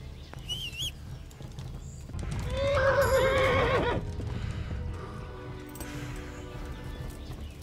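A horse in the video game Kingdom Come Deliverance gives one loud, wavering neigh, surrounded by light hoof clip-clops and faint outdoor game ambience.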